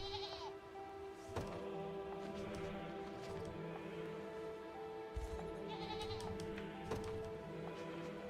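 Goats bleating in the Unicorn Overlord video game, several calls rising over a steady bed of game music and ambient farm sounds, with a few sharper knocks scattered through.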